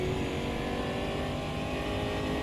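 A race car in the Automobilista 2 racing game runs over rumble strips, a continuous loud engine roar mixed with rattling vibration of metal parts, steady throughout.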